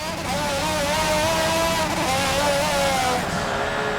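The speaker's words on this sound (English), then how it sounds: "when you can hear the engine sputtering" A damaged race car engine in Forza Motorsport 7 drones steadily with a rough, wavering tone throughout, loud and continuous with a faint voice underneath.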